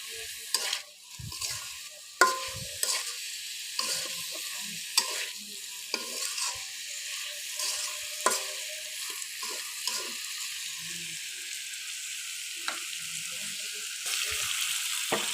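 Onions fry in a pan with a quiet continuous sizzle, broken by repeated sharp scrapes and clacks as a spatula stirs them. The clip stays close and busy for its whole length.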